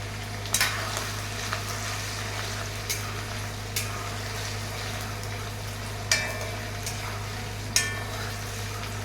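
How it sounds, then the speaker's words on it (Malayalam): Dried mango pickle ingredients sauté in a hot pan with a steady close sizzle, broken by a few sharp clinks and scrapes of a stirring spoon. "ഒന്ന് വഴറ്റിയെടുക്കുക."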